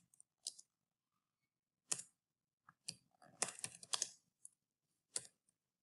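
Quiet, sparse key presses on a computer keyboard as a password is entered, single clicks and short clustered bursts separated by silence.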